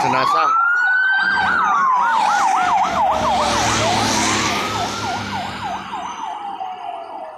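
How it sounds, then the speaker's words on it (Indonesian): Loud wailing ambulance sirens from a funeral convoy on a busy twin road, fast yelping and slow rising tones overlapping up close, with road traffic rumbling underneath as they pass and begin to fade. "Rombongan ambulan pengantar jenazah."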